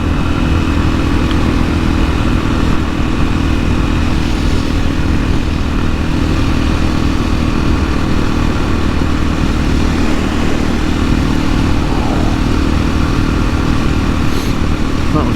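A 2021 KTM EXC-F 500 on supermoto wheels rides along a road after a motorway. The engine drones steadily and loudly the whole time, with a constant wind-buffeted rumble and no clear talk over it.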